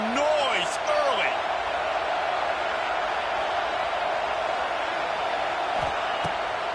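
Stadium crowd at a college football game against Oregon, a dense continuous roar of many voices, loud and sustained, with a few whistles and shouts rising near the start and a commentator talking over it.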